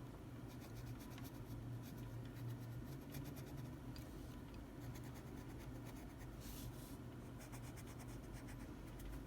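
A pencil scratches steadily over paper while black outlines are drawn around Spider-Man's eyes, a quiet, continuous scribbling close up against a low background hum.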